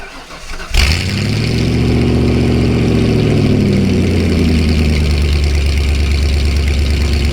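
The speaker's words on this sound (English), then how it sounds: "Let's get some cold starts on like 4 different vehicles." A car engine cold start: it cranks and fires up abruptly, revving loudly before settling into a steady, rumbling idle.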